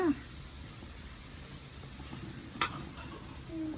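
Wheat flour and maida dry-roasting in a pan give a faint, soft scraping as they are stirred, with one brief clink of a utensil partway through.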